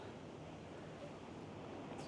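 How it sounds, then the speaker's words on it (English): Ocean surf rolling in off the coast at a Curaçao beach resort, a steady, continuous wash of breaking waves with wind buffeting the microphone, heard on its own without talk. "Look at the waves."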